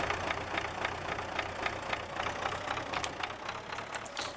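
A tractor engine idles in the Farming Simulator 19 video game, a steady rumbling run with faint rhythmic knocking pulses, continuous and fairly close, with no talk over it.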